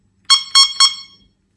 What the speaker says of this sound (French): On a un klaxon électronique.